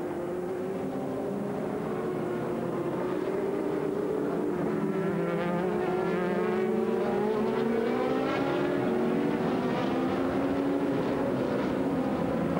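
Race car engines at the 2001 European Le Mans Series race at Jarama drone steadily at a distance, pitch sweeping up and down as several cars pass and shift gears, with a constant loud hum throughout.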